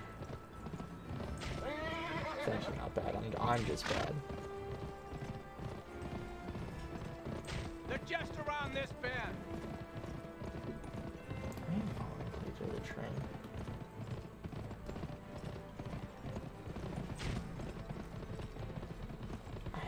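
Horse hooves clip-clop in steady galloping rhythm in the PS2 video game Gun, with whinnies and game music layered over it, and someone talks briefly over the action.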